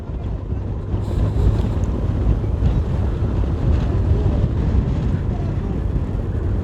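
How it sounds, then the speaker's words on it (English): Heavy headwind sweeping across an open road during a cycling race in Belize, a loud continuous low roar and buffeting rumble that fills the whole stretch without letting up. "these guys make their way towards Rockville in a heavy headwind"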